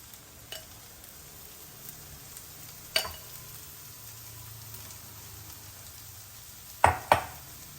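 Cauliflower rice frying in butter in a hot pan gives a soft, steady sizzle, broken by a few sharp utensil knocks and scrapes near the middle and the end.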